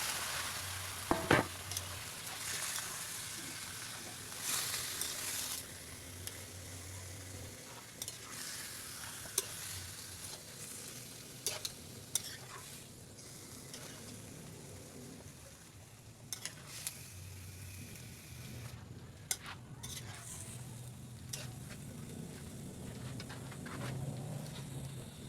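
Chicken gizzards frying in a pan, giving a continuous sizzle broken by frequent sharp scrapes and clinks of a utensil stirring them.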